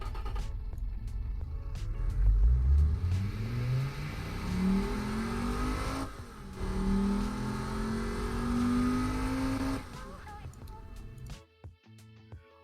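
A video-game car engine revs up with rising pitch, climbing through gears in several sweeping pulls, loud and close, then cuts off abruptly near the end.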